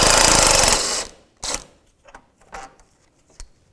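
A 12mm socket wrench loosens a radiator mounting bolt on a 2001-2007 Volvo V70. A loud, close burst of rapid ratcheting lasts about a second, followed by several short separate clicks and bursts.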